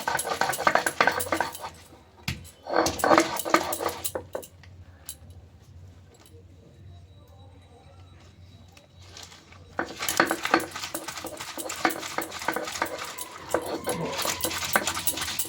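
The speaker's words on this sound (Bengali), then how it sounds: "দেখো শিলনোড়ার মধ্যে এবারে পাতাটাকে বেটে নিচ্ছি।" Leaves being ground on a Bengali shil nora stone slab with its stone pestle: close, gritty scraping in bursts at the start and again at the end, separated by a quieter stretch, with a person talking over it.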